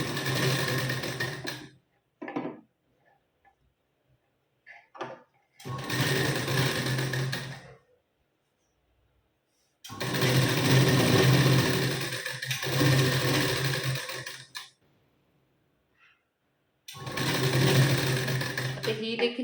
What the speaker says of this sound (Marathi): तर इथे मी आता शिलाई देऊन घेते बघा.